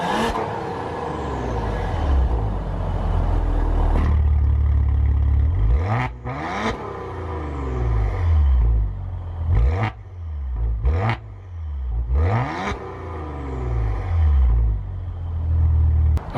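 A Maserati Levante SQ4 engine in sport mode idles with a deep rumble, then gives several sharp throttle blips, roughly five loud revs rising and falling in quick succession, close and clear.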